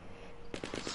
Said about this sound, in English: I heard gunshots, okay?